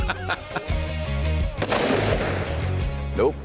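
Several sharp gunshots from a custom-built modern hunting rifle, fired in a spaced string, loud and close with a ringing tail after each report.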